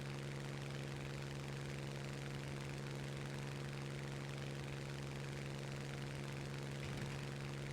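A steady droning aircraft engine in the game War Thunder hums continuously during a climb near 4,100 metres, with a constant low tone and broad hiss, with a slight wavering near the end as it starts to splutter.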